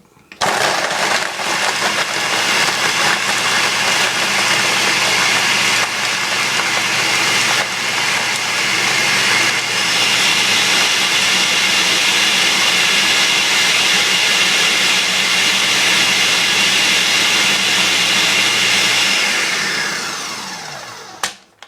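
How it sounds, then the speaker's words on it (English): A blender whizzes sugar, milk and Aeropress coffee into a frappuccino, loudly and continuously for about twenty seconds, a dense hissing whir that cuts off abruptly at the end. "I take the blender"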